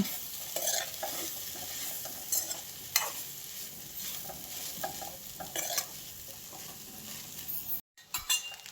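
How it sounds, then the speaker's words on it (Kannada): Fenugreek leaf rice bath with fresh lemon juice is mixed in a pan, with quiet, close scraping and stirring, light clinks of a spoon against metal, and a faint sizzle underneath. "ಒಂದು ಅರ್ಧ ಹಣ್ಣಿನಷ್ಟು ಲಿಂಬೆ ರಸವನ್ನು ಹಾಕ್ಕೊಳ್ತಾ ಇದ್ದೇನೆ ಹಾಗೆ ಇದನ್ನು ಚೆನ್ನಾಗಿ ಮಿಕ್ಸ್ ಮಾಡ್ಕೋಬೇಕು"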